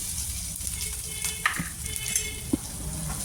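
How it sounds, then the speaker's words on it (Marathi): A ground paste of coconut, ginger and coriander frying in oil with cumin seeds for a brinjal and potato curry: an even close sizzle broken by a few sharp spoon clinks and stirring scrapes. "तळल्यानंतर आपण त्यामध्ये वाटून घेतलेलं खोबरं अद्रक आणि कोथिंबीर वाटून घेतलेलं ते टाकून घेऊ"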